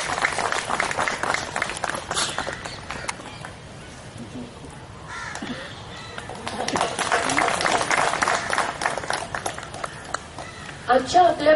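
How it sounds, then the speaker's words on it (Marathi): An audience at a Rotary sports and health event gives a hearty round of applause, a dense clatter of many hands that swells, dips briefly, then rises again, with voices talking around it. "ते एकदा त्यांच्यासाठी जोरदार टाळ्या"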